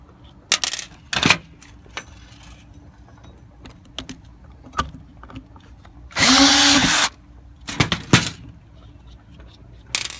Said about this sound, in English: it actually is like a little mini drill bit on the edge of the screw that actually drills into the copper